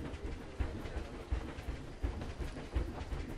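A train runs through a tropical zoo in the video game Planet Zoo, giving a steady low rumble with regular clickety-clack thumps about every three quarters of a second, and no voices over it.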